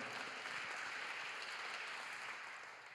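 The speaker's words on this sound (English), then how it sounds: "Can we also give a round of applause to the last speaker and to the speaker before that, to Mandy?" Audience applause at a live storytelling event: dense, steady clapping from a crowd, moderately distant, holding evenly for the whole stretch before starting to fade.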